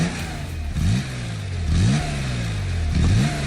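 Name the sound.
classic Porsche 911 Carrera engine revving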